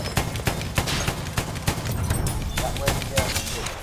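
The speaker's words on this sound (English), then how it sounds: "There's someone on Bravo firing at me." Battlefield 1 gunfire crackles in rapid, repeated bursts of shots, loud and close, with overlapping weapons firing throughout a busy multiplayer match and voices talking underneath.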